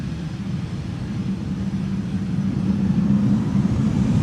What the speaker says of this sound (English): KLM will be leaving first to Catania. 737 with a Karen cabin.